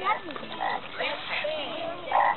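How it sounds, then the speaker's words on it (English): Repeated low croaking calls, fairly close and moderately loud, sounding like a frog, with a faint voice underneath. "It's a frog."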